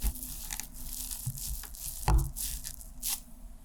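Soft papery crinkles and damp squishing dabs as tissue is pressed and lifted repeatedly on wet watercolour paint, close up and fairly quiet.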